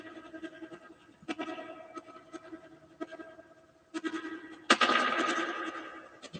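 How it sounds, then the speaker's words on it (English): A ghost-hunting spirit box sweeps through radio static, giving choppy, stuttering bursts that end in a louder stretch of harsh white-noise hiss, heard alone at low level. "I'm trying to drown out as much of that white noise as I can."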